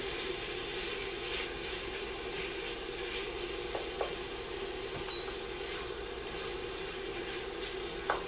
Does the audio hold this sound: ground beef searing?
yes